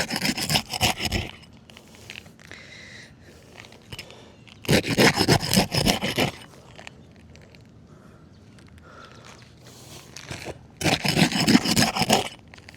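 Roof shingles are pried loose during a repair in three bursts of rough scraping and rasping, separated by quieter stretches of faint rubbing, with no talk.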